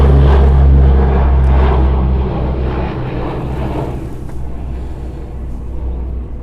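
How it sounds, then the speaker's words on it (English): A C-130 aircraft drones overhead at an airfield, a loud low rumble that is strongest at first and gradually fades as it passes. "we've got a C-130 going overhead right now"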